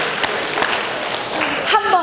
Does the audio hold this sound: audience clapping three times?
yes